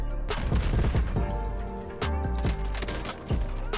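Gunshots in a Call of Duty Warzone kill cam: a rapid series of loud, close weapon reports in quick bursts over game music, with sharp cracks recurring across the few seconds.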